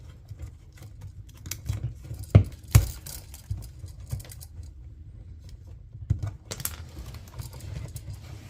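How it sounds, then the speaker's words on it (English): Diagonal cutters snip insulation while trimming wire for an electrical outlet install, giving a few sharp clicks over soft handling rustle and scraping in a quiet room. "So I'm going to go in there with the pair of dikes and trim this back."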